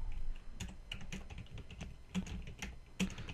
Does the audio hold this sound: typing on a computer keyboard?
yes